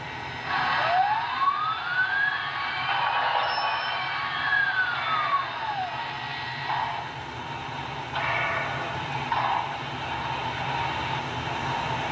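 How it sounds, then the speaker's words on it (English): Dynamo whine from a Broadway Limited T&P 2-10-4 brass hybrid DCC model steam locomotive with its headlight switched on, a tone sweeping up and back down, then softer recurring pulses over a steady hiss, with no talking. "Headlights on, that usually makes the dynamo sound start"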